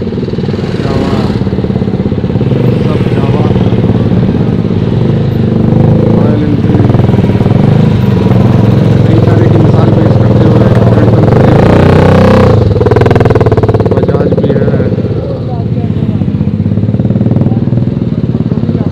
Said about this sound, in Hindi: सारी बाइक्स लाइन अप हो गई हैं, आ रहे हैं।